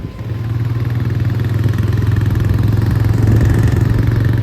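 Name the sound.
motorcycle engine running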